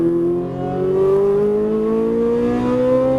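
Ferrari 458 Italia accelerating out of a corner on a racetrack, its engine note rising steadily in pitch as it pulls hard, loud and close, with no talking.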